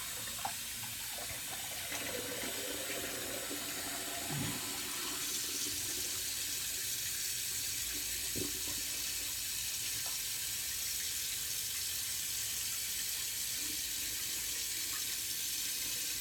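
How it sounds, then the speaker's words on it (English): A tap runs steadily in a sink while someone rinses their face after a wet shave, with a continuous soft hiss of flowing water and a few small splashes and clinks breaking through. "I finish it with warm water first and then cold water"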